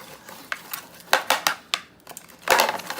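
A pan is handled while slime is being mixed, giving a series of light metallic clinks and scrapes, irregular and close, with a louder clatter near the end and no voices.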